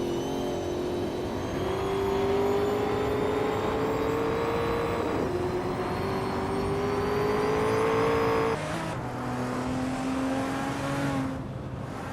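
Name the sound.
race cars in a video game race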